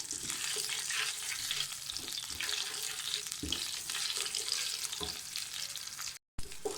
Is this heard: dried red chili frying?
yes